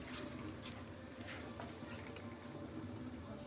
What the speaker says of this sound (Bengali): মশলাটা ভালোভাবে কষতে থাকুক